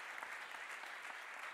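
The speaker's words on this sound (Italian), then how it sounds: "noi ti facciamo un grande applauso" An audience gives a big round of applause during a gala evening honouring cycling, a dense patter of many hands clapping steadily for a short stretch.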